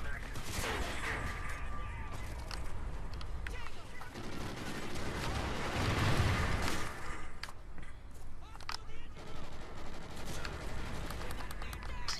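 A Ripper submachine gun fires in a Call of Duty: Ghosts match as rapid bursts that merge into continuous gunfire with a heavy boom partway through, all under excited player chatter.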